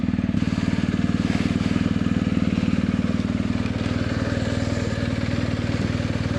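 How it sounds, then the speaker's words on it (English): Adventure motorcycle idling as it warms up at a campsite in British Columbia, a loud, close, steady thumping engine pulse with no voices over it. "You can hear the bike warming up."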